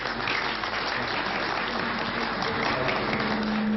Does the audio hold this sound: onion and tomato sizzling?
no